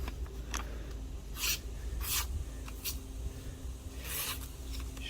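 A Carl Walther pocket knife slices through thin post-it paper in several quiet, short rasping strokes, each one a brief dry scratch close to the ear.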